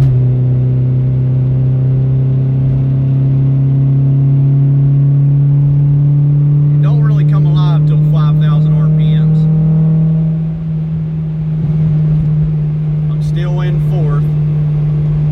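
Engine of a 1994 Acura Integra LS pulling in fourth gear, a steady loud drone slowly rising in pitch throughout, with a few brief bursts of speech over it.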